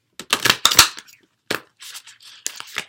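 Several quick, crisp riffling bursts of tarot cards being shuffled, close by, with short pauses between flurries.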